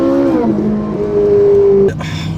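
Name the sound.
Ferrari V8 engine roaring after downshift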